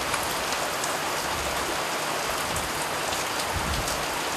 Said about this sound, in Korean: 칠흑 같은 어둠이 드리워진 바다 위로 굵은 빗줄기가 쏟아지기 시작했다.